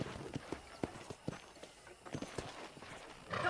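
Horse hooves clop at a steady walking pace on hard ground in Red Dead Redemption, moderately close, with a faint hum in the background.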